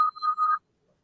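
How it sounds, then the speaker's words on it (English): A fire department dispatch phone rings once in a short electronic burst, a warbling tone that stops abruptly and leaves silence. "Phones ringing?"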